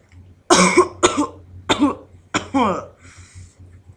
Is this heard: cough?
yes